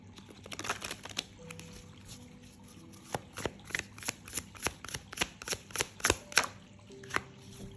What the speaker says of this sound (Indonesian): Jadi kita langsung shuffle kartunya ya